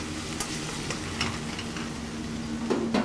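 A sofrito of garlic, onion and bell pepper fries in a pan, a steady close sizzle with intermittent stirring scrapes and faint clinks, no voices over it.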